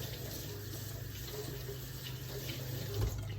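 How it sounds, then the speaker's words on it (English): Tap water runs steadily into a sink while celery stalks are rinsed beneath it, a continuous hissing splash with a brief thump near the end. "So you pop those off, give those a quick rinse."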